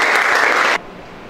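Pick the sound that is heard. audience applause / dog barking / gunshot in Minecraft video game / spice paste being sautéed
audience applause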